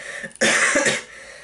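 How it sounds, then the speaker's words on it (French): A single harsh, close cough erupts after a brief pause, loud and raspy, then fades quickly. "j'ai envie de tousser depuis que je suis connecté à lui"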